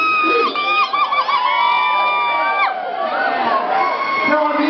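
A packed room in an old building erupts into loud, sustained screaming and cheering, high whoops and shrieks layered continuously through the whole stretch at a carnival parade event.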